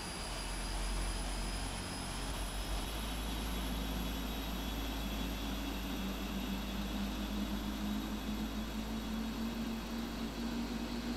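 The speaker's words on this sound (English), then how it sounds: "Engines number 3 and 4 are starting up." Engines 3 and 4 of a Boeing 747-400 (PMDG 747 QOTS II in the Prepared3D v4.1 flight simulator) spool up at startup, a steady loud jet drone with a slowly rising whine that continues throughout.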